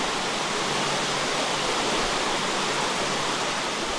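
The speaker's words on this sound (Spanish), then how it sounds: "Voy a quitar la lluvia." Steady, dense rushing hiss of heavy rain in a video game, constant and loud throughout with no voices or breaks.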